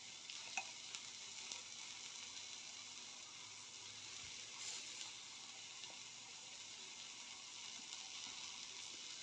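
Okra cooks in a pan with two spoons of onion-garlic masala, giving a faint, even sizzle that carries on steadily with only a few small clicks.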